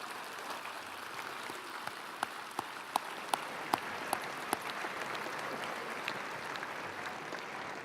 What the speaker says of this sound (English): let's give them another round of applause as we acknowledge where that freedom comes from